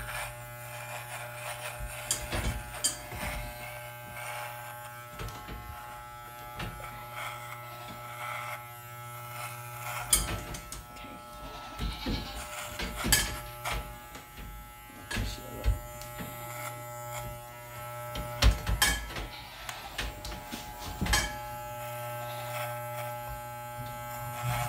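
Electric clippers buzz steadily and close by while shaving a pregnant goat's tail, the motor's hum wavering in pitch and loudness as the blades move through the hair, with no voices.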